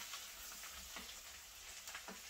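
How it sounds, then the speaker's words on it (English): Prawns and garlic are stirred in a frying pan, giving a steady quiet sizzle with a few soft scraping strokes and no voices. "You just give it a good mix."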